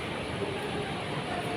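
A train rolls past at Legarda station, a steady loud rumble and hum that fills the platform throughout, with no clear speech over it.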